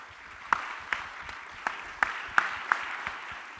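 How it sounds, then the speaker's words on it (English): A gala dinner audience applauds ESM Goh Chok Tong, soft scattered clapping with a few sharper nearby claps standing out irregularly over a quiet hall. "So will you join me in giving ESM Goh a round of applause?"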